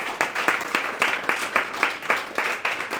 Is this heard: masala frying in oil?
no